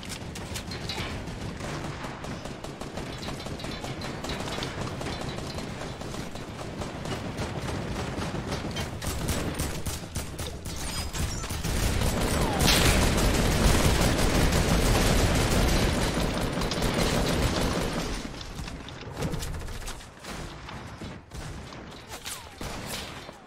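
An automatic gun in Fortnite rattles off continuous rapid bursts, a steady dense fusillade that swells louder midway with heavier impacts before easing back, mechanical clatter running throughout and no speech over it.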